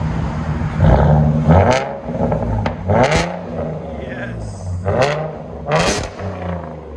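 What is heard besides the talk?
Ford Mustang 3.7L V6 with Flowmaster Outlaw exhaust revving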